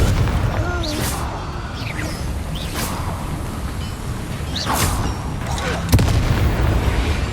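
Confringo fire spells go off in the Hogwarts Legacy video game as several sharp blasts and crackling bursts, with one hard crack near the end. A steady rumbling game soundscape runs underneath, and whooshes sweep through at intervals.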